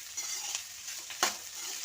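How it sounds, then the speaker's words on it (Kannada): Onions fry over low heat in a home kitchen pan, giving a steady, soft sizzle with a brief scrape or clatter from stirring near the middle. "ಇವಾಗ ಈರುಳ್ಳಿ ಫ್ರೈ ಮಾಡ್ಕೊಳ್ಳೋಣ."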